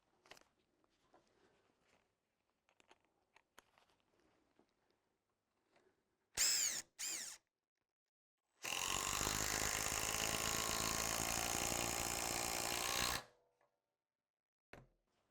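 A Makita DTD173 18V impact driver runs at speed 3, with two short bursts followed by a sustained loud hammering buzz lasting several seconds, preceded by faint handling clicks.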